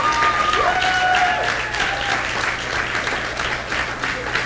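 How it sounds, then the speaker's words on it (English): Loud, steady applause and clapping from the crowd at a 2015 high school graduation ceremony for St Dominic High School, with a faint whistle-like tone and a low hum running underneath. "deserving of a big round of applause"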